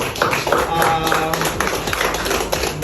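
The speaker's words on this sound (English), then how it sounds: "We're going to give them a round of applause." An audience at a culinary arts showcase claps in a brisk, dense patter of many hands, close and fairly loud, with voices mixed faintly underneath.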